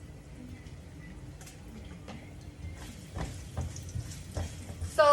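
Ground beef stir-fried with chili pepper and basil in a pan, soft sizzling with scraping and stirring clatter that grows louder toward the end, brief voices in the background.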